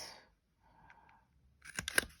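A couple of quick mechanical clicks, then a sharp crunching punch through paper, close and fairly loud.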